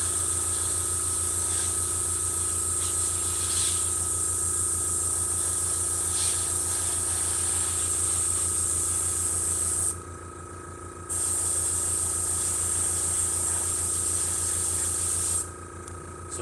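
An airbrush spraying thinned-out paint, a steady, bright continuous hiss that cuts off briefly twice as the trigger is released, alongside a constant low hum, with no talk.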